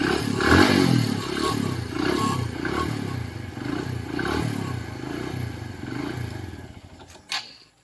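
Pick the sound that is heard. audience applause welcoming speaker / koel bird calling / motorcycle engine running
motorcycle engine running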